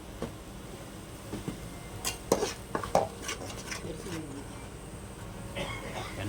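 Onions frying in a pan for chicken liver gravy are stirred with a metal utensil, giving several scraping clinks against the pan over a low sizzle, with brief voice sounds nearby.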